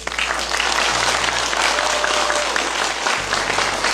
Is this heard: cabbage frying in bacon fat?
no